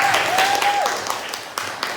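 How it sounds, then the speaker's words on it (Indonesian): Students in a school classroom give a short round of clapping for a presenting group, with a whistle-like tone and a voice heard over the applause. "tepuk tangan buat kelompok 3"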